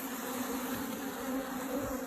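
Honey bees drone steadily at an open top bar hive, a dense continuous buzz with a strong low hum, close and unbroken throughout.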